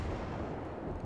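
A heavy naval gun salvo from a cruiser in World of Warships, a dense, loud, low rumbling blast that fills the whole second without a break.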